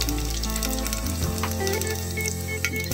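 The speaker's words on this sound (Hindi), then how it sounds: "तेल गरम हो गई है, अब मैं इसमें डाल दूंगी दो सूखी मिर्च और पचफोरन।" Two dry red chilies and panch phoron hit hot oil, bursting into a loud, close, steady sizzle with crackling spatter that carries on without pause over a low background hum.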